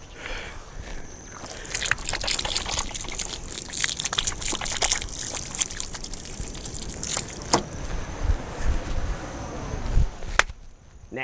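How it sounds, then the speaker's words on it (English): Hands are washed under running tap water in a kitchen, with splashing, rubbing and gushing that rises and falls over several seconds before the tap cuts off near the end. "Just watching me wash my hands."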